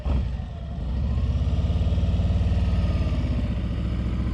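A motorcycle in first gear under steady throttle during slow-speed riding practice gives a loud, close engine drone with an even, rapid pulsing rhythm, holding for several seconds without speech.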